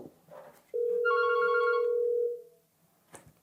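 A Yealink CP930W wireless conference phone rings once with a steady electronic tone lasting about a second and a half, loud and close in a quiet room, followed by a brief soft click.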